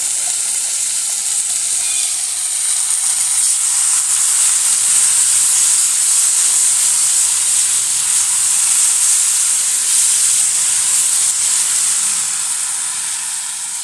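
Tomatoes and green chillies fry with onions in a pan over a full flame, giving a loud, steady, close sizzle and hiss that holds without a break and has no voices over it.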